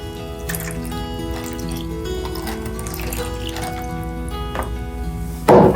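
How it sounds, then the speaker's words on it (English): Green-coloured water pours steadily into cornstarch for oobleck, a continuous splashing trickle heard up close with a brief louder gush at the end. "Then we're gonna pour and mix with our cornstarch."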